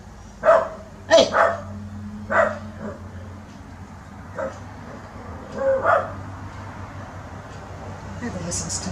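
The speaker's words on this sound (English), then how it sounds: "No barking!" A dog barks several times in sharp separate bursts, with pauses between, at moderate distance over a low background hum.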